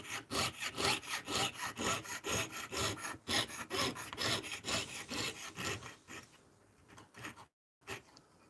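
Rapid, rhythmic rasping strokes of a hand saw cutting through copper, loud and close, about two strokes per second, slowing and stopping near the end after a brief pause.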